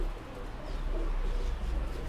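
A pigeon coos softly at a bird market in Delhi, low and faint against a steady background hum, with no voices over it.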